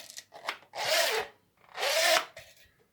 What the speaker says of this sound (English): the first thing you need to do is you need to run the tensioner across the wires